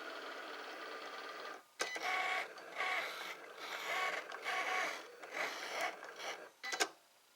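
A Cricut Expression 2 cutting machine working through cardstock, a steady whirring mechanical hum with rhythmic motor surges and a couple of sharp clicks, fairly quiet and alone.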